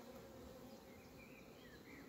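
Bees buzzing steadily around a hive in tall grass outdoors, a soft continuous insect drone with a few closer passes, fairly faint and with no voices.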